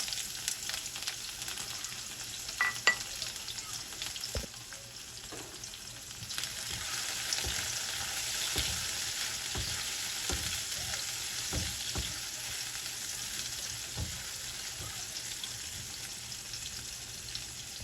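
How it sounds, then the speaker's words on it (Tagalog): Garlic and onion sauté in hot cooking oil for a pork sinigang, a soft continuous sizzle broken by light stirring clicks, with no one speaking. "Nagpainit na ako ng mantika mga kabeshi. Lalagay ko na po itong ating bawang at sibuyas."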